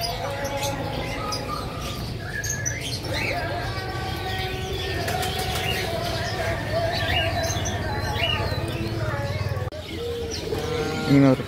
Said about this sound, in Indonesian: Ini merpati teman-teman.